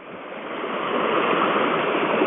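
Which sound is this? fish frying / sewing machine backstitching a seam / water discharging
water discharging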